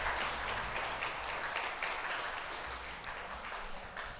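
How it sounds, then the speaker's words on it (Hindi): Audience applause at a live awards ceremony, a dense, steady wash of many hands clapping that holds for the whole stretch without pause. "A huge round of applause."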